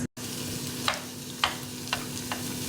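Vegetables for Gobi Manchurian sautéing in oil over a high gas flame: a continuous close sizzle, broken by a few scraping stirs of a spatula in the pan.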